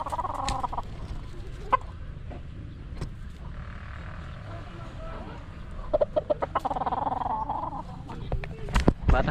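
A five-month-old chicken clucks in short bursts near the microphone, scattered over a steady background hum, with occasional clicks and brief louder bumps.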